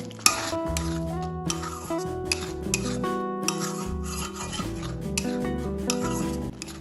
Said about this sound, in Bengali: ভালোভাবে মশলার সাথে এটা মিশিয়ে নেব।